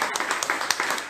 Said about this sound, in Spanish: Dale un aplauso a Dios porque Él habla.